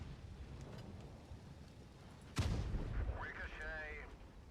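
A tank shell ricochets in World of Tanks Blitz while driving a Cromwell, a sudden sharp metallic crack and boom over engine rumble, then a short voice-like game alert.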